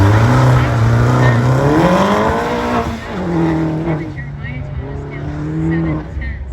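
A Mini autocross car with a 3-inch turbo exhaust and a Jones JT3030 XL muffler drones loudly up close, the engine note rising and falling as it revs, with a voice talking over it.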